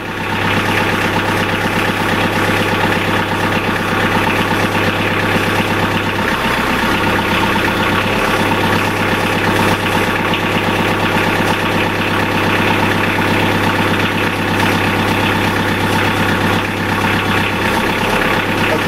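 A hydraulic valve rig's engine idles steadily for the whole stretch, a loud, continuous low rumble with a slight knock and no talking over it.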